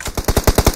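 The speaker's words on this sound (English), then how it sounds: "you shoot them so much" Automatic weapon fire in the battle-royale game PUBG Mobile: a fast, evenly spaced burst of about eight loud, close shots with no talking.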